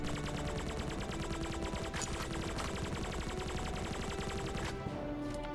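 A weapon in the video game Dungreed fires well over three shots a second, a steady, dense stream of rapid shots running for about five seconds without pause and with no talking.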